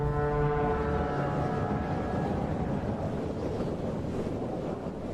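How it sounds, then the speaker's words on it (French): Strong wind blows across the gulf by the Burj Al Arab as a steady, loud, roaring rush. A low tonal hum sounds at the start and fades within the first couple of seconds, with no voices. "Le vent qui souffle dans le golfe est si violent"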